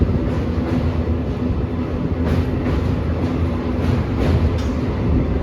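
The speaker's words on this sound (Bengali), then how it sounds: "ওই পাশের ব্রিজে এখন ট্রেন যাচ্ছে।" A train crossing the Kolaghat bridge on the Digha to Howrah line gives a steady, loud rolling rumble with faint rhythmic wheel clatter that continues without a break.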